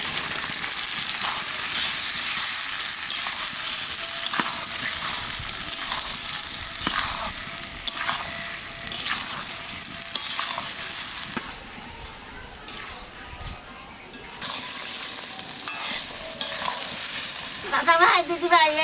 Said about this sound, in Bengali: এইবার মশলার সাথে মাছটা ভালো করে কষায় নেব।